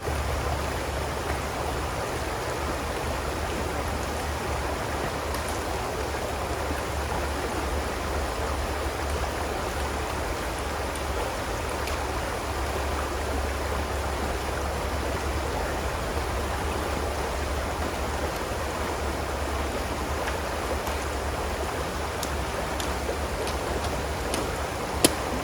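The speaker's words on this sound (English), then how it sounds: "is where the trail crosses a good-sized brook" A good-sized brook flows where a hiking trail crosses it on Vermont's Long Trail. The water keeps up a steady, even rushing babble throughout, with no talking.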